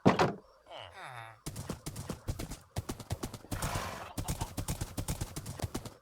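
Steady clip-clop of horse hooves from a ridden horse in the Minecraft video game, a quick rhythmic run of knocks heard close and fairly loud, with a brief neigh-like sound near the start.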